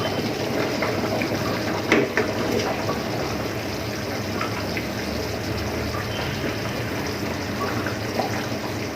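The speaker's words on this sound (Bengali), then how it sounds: "দেখুন আমার মাছের ঝোলটা ফুটে উঠেছে।" A pot of catfish curry with new potato and tomato bubbles at a steady boil, a dense continuous rumble and hiss with faint pops, close and even throughout.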